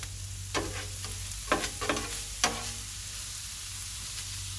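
Sloppy joe meat sizzles steadily on a 22-inch Blackstone griddle while a spatula scrapes and clacks across the surface in a few quick bursts, the steady hiss of the cooking meat running underneath throughout.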